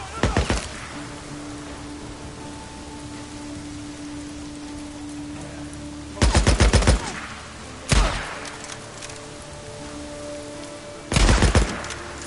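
Heavy weapon gunfire in Days Gone comes in three or four loud bursts of rapid shots, separated by stretches of quieter ambient noise that carries a faint steady tone.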